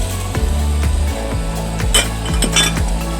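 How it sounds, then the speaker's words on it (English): Vegetables tumble back into a cooking pan, with several sharp metallic clinks and knocks of utensil against pan recurring at an uneven rhythm over a steady background hum. "I'm going to add the veggies back in."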